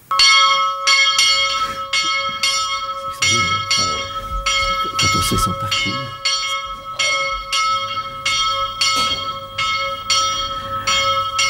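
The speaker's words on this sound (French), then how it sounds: "pour le réveil avec la cloche" A hand bell rings repeatedly as a wake-up call in a residential home for elderly people run by a priest, striking in a steady series of loud, ringing clangs with rich overtones, and a brief voice is heard partway through.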